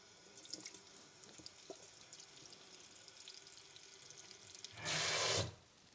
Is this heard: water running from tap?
yes